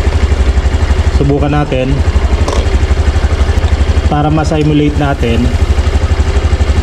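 A Honda Genio scooter idles close by in a steady, rapid putter, its pulsing engine note constant beneath someone talking.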